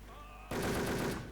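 A rapid burst of automatic gunfire in the online shooter Wolfteam starts abruptly after a brief quiet moment and rattles on loudly for under a second.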